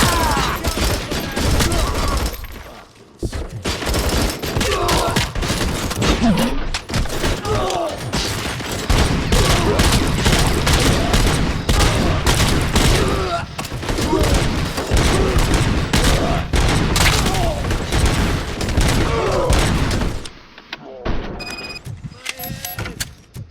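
The ED-209 robot in RoboCop: Rogue City unleashes rapid, continuous gunfire for about twenty seconds, loud and dense, before it cuts to near silence with a few faint mechanical sounds; a voice talks under the shooting.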